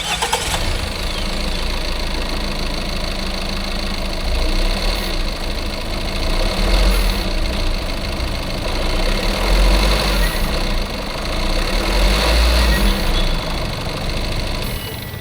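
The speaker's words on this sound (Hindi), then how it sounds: "तो चलिए स्टार्ट करते हैं इंजन एंड सुनते हैं इंजन नॉइस।" Diesel engine of a Tata Sierra Accomplished Plus automatic SUV idling steadily and close, a continuous low rumble with a slight knocking texture and no talk over it.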